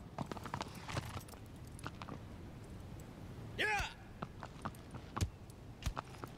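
Horse hooves walking in the Shadow of the Colossus game, soft irregular clip-clop steps at moderate distance, with a brief bright tonal effect midway and someone talking at times.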